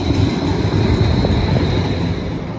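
A Portland MAX light rail train on the north-south line rumbles loudly and steadily, with continuous rail and wheel noise and faint metallic squeals throughout.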